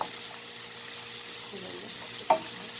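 Vegetables for a spinach-and-egg dish sauté quietly in a pan, giving a soft, low sizzle with a brief clink near the end, and no speech.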